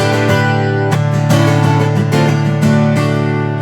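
Several strummed guitar chords, one sounding like an F, ring out one after another, each sharp attack followed by a sustained, harmonically rich decay, played close and fairly loud.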